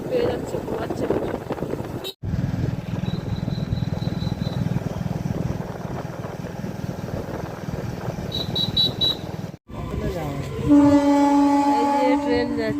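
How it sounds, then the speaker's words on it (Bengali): A train passing nearby with a low continuous rumble of cars and brief high horn-like tones, interrupted by short cuts, then wind buffeting the microphone. "এই যে ট্রেন যাচ্ছে"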